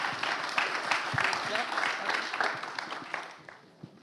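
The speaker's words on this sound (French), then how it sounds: "à vous sur vos applaudissements." Audience applause at a regional award ceremony, a moderate patter of clapping mixed with voices talking over it, tapering off toward the end.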